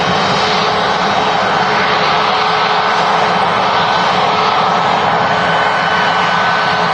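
Steady, loud roar of a Cessna Citation 680A Latitude business jet at Manchester Airport, a continuous engine rush with a faint whine running throughout, no voices.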